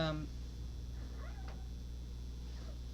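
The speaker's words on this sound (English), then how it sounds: "It's my cat, she's in heat." A female cat in heat meows in a drawn-out, wavering wail at moderate distance indoors, heard alone after a brief clipped sound at the start, over a steady low hum.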